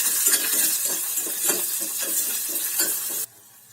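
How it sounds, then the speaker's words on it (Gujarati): Two chopped medium onions with curry leaves sauté in a hot pan, giving a loud continuous sizzle broken by rhythmic scraping strokes of a stirring spoon, which stops abruptly near the end. "હવે આપણે મીડિયમ સાઈઝની 2 ડુંગળી કટ કરીને રાખી છે તેને આપણે સાતરી લઈશું"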